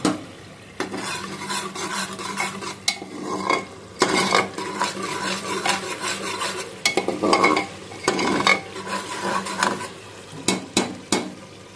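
Masala for a chicken curry is stirred and fried in a hot pan with a ladle, giving steady scraping and clinking against the metal over a soft sizzle, close and continuous, with no talk.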